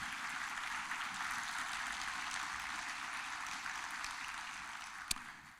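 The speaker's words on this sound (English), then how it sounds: "Let's give them a round of applause for their support." Steady applause from an audience at a university extension and engagement week welcome event, a dense, even wash of clapping that holds for several seconds with one sharp clap near the end and no talk over it.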